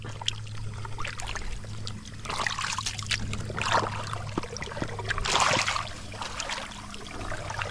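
Water pours and trickles steadily into a field being irrigated, with splashing surges and a low engine hum underneath, close and continuous.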